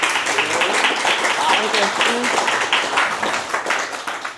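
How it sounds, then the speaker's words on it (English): Audience applause at an evening talk and Q&A: a steady patter of many hands clapping that fills the whole stretch at even strength, without pauses. "First, let's give a round of Okay. applause."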